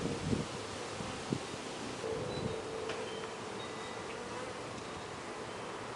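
Honeybees swarming around an open hive, a dense continuous buzz filling the air with faint rustling and a few soft bumps, no voices.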